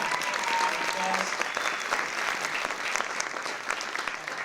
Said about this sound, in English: so please give them applause.